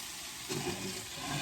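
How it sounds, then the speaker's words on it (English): Zucchini sautéing in a pan for a meatless ramen stir fry gives off a steady, soft sizzling hiss, low in level, with no one talking. "While this is sauteing"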